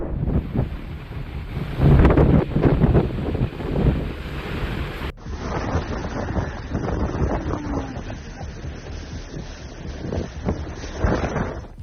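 Strong autumn storm wind from Storm Benjamin in France, gusting up to 161 km/h, roaring and buffeting a microphone with a surf-like rush, loud and continuous, the sound shifting abruptly partway through with no talking.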